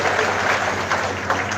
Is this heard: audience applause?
yes